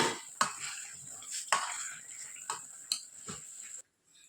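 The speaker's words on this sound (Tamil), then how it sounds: "இப்போ ஒரு டைம் நல்லா கிண்டி கொடுத்துக்கோங்க" Pineapple rava kesari being stirred in a pan, with a few distinct scrapes and clinks of the spoon against the metal over a soft steady hiss, then a sudden stop.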